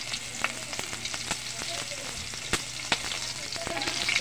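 Onions fry in a hot pan for escabeche, a continuous close sizzle and crackle with scattered sharp pops and stirring clicks, heard alone without talk.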